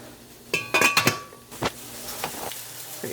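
Apricots being stirred into a cooking pot: a cluster of bright metallic clinks and knocks from a spoon against the pot, followed by a few softer scrapes and a faint bubbling background, no voices.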